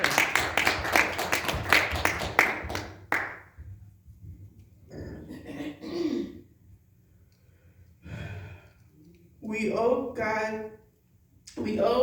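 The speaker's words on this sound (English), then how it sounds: "Y'all can clap your hands for that." A church congregation claps in praise with quick, rhythmic hand claps for about three seconds, followed by sighs and spoken voices.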